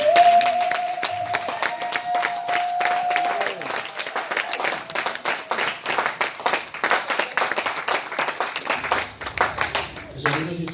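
Church congregation standing to applaud and acclaim the Lord, a dense continuous clapping crowd with a voice speaking and calling out over it.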